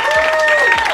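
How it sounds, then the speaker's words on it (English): An audience claps and cheers loudly and steadily throughout at a real estate seminar, a dense crowd roar with a music tone held over it. "Guys, please give the guys here up top a round of applause."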